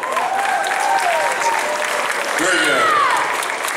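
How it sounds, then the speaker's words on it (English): Audience clapping in a continuous burst, with people talking over the applause. "give yourself a round of applause"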